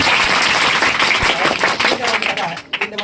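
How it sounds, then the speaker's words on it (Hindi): Students clap loudly for a topper at an academy in Nirmali, a dense burst of hand claps that fills the clip and thins slightly near the end, with a voice faintly mixed in. "जोरदार ताली होना चाहिए।"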